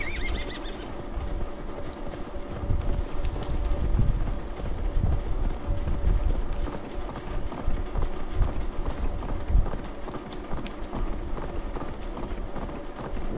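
Horse hooves gallop in a steady clip-clop rhythm in Assassin's Creed Valhalla, with loud whinnies and neighs over a dense, continuous game soundscape.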